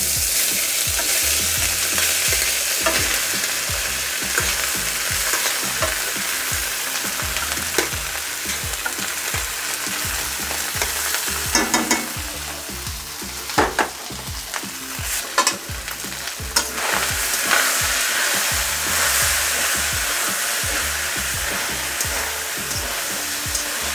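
Steady, loud frying sizzle as polao rice is poured slowly over cashews browning in hot oil on low heat, with stirring scrapes and brief louder bursts throughout, no voices.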